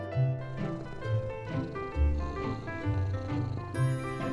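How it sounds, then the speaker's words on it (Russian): A cat purrs softly and steadily up close, the rhythmic rumble pulsing over a light musical backdrop with no talking. "Кошка любит нежиться на летнем солнышке."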